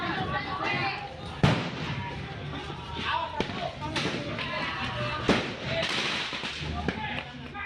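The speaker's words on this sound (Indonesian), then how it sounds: "Kedua kelompok saling lempar batu dan petasan serta balok kayu." Sharp firecracker bangs and heavy thuds from thrown stones and wooden blocks during a street clash between residents and a crowd, scattered irregular impacts amid shouting and crowd noise.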